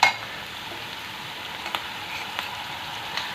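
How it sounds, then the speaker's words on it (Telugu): Onions frying in a pan with ginger-garlic paste for a spicy chicken liver fry produce a constant, even sizzle with a few light scrapes and taps of a spoon, close and moderately loud. "ఆనియన్స్ ఫ్రై అయిపోయి ఇందులో 1 స్పూను అల్లం వెల్లుల్లి పేస్ట్"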